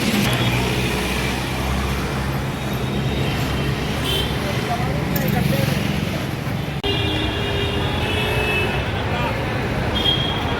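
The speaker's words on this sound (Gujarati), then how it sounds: "અહીંયા ખૂબ જબરદસ્ત ટ્રાફિક છે" Heavy road traffic near Kalupur railway station in Ahmedabad makes a dense, continuous rumble of cars, buses and engines, with people talking over it throughout.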